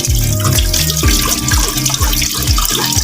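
Water runs from a tap into a cooking pot, a loud continuous splashing stream with rising gurgling tones as the pot fills, alone without voices.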